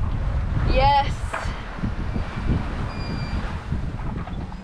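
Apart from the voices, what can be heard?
wind and waves on a sailboat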